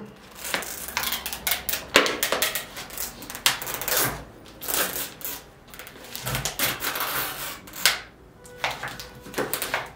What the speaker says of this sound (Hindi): इस तरीके से आपने लगाया और लगाने के बाद आपने इस पे सेलो टेप लगा दिया